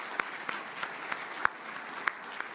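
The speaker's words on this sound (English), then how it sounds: "big applause to all people traveling here" Applause for participants at the opening of a robotics conference: a steady wash of many hands clapping, heard from some distance, with a few sharper, louder claps standing out now and then.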